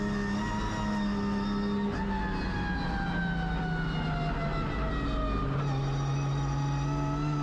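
A drift car engine held at low RPM, a steady droning hum whose pitch slides slowly downward, eases back up, then settles lower, heard continuously with no talking.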